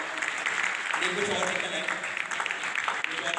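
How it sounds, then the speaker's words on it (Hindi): A quiz competition audience applauds the student contestants in a steady wash of clapping while a host talks over it. "तालियां रुकनी नहीं चाहिए इन बच्चों के लिए"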